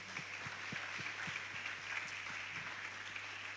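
Audience members at a conference session clap steadily for a speaker, a fairly faint, even spread of applause over a constant low hum.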